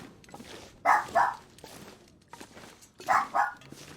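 A pet dog indoors barks at the neighbors from a short distance off, two pairs of quick double barks separated by a quiet pause, with faint shuffling in between.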